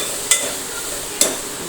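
Potato curry being stirred in hot oil in a home kitchen: two brief scraping strokes of a spoon against the pan, nearby, over a faint steady sizzle.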